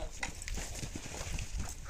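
Mare moving on a farm, hooves clopping in an uneven rhythm close by, mixed with other animal noises and a steady background rumble.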